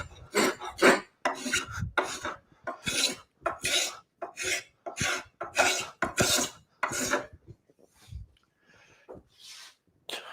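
A spokeshave shaves wood worked at an angle in about a dozen firm, rasping strokes, steady and rhythmic, close and fairly loud, with brief pauses and a softer final pass.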